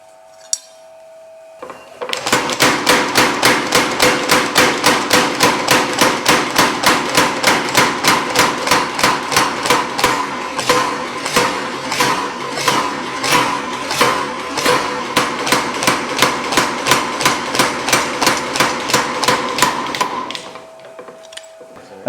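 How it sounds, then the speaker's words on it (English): A hammer planishes a knife blade in a cold-forging process, giving a long run of steady, ringing metallic blows at an even rhythm. The strikes are close and loud and continue for about eighteen seconds before stopping. "I think the term cold forging is maybe not suitable for what I do. It's more like planishing"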